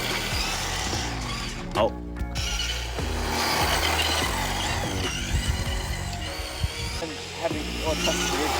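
A four-wheel-drive Traxxas Slash RC car takes a tight turn, its electric motor whirring and rising and falling with gritty, ratcheting mechanical noise. The sound is close and loud throughout, and someone gives a brief exclamation.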